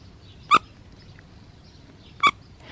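A squeaky plush dog toy gives two short, high, bright squeaks about two seconds apart, close and clear over a quiet background.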